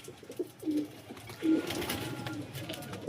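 Domestic pigeons walking about outside coo in low, soft rolling calls, two or three near phrases over light background noise.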